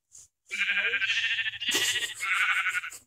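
Sheep in a multiplayer video game let out a string of loud, close bleats over about three seconds, one short call first and then a sustained, wavering run of calls with no talk over them.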